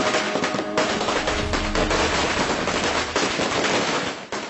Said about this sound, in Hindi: ये सिर्फ पटाखे की आवाज है